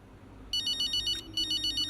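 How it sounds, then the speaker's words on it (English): A phone ringtone from the F1 25 racing game chirps in two quick electronic bursts with a short gap between them, clear and close over a faint background hum. "Oh, I'm getting a phone call."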